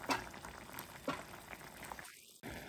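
A cornflour-thickened sauce for chilli garlic prawns bubbling in a pan, soft popping and burbling that stays quiet, then drops out abruptly near the end.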